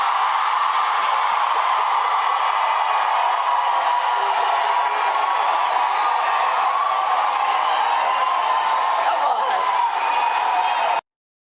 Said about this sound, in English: You see how the crowd went crazy?